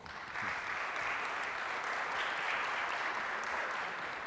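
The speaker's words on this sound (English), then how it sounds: "Please give yourselves a round of applause for making it at 9 o'clock." Conference audience in a hall giving sustained applause, a steady wash of many hands clapping at moderate, somewhat distant level, even from start to finish with no voices on top.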